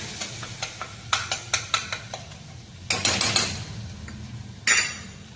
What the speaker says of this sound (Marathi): काजूचे पेस्ट रेडी करून ठेवलेलं हे पेस्ट ह्याच्यामध्ये घालूया